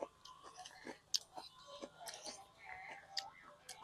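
Quiet, close crunchy chewing of spicy cucumber salad, with irregular bites and mouth sounds spaced through a few seconds and no talking.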